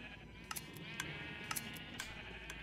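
Sheep in the Minecraft video game bleat in a quick run of short, fairly loud calls that repeat about every half second over a steady background hum, with no voices.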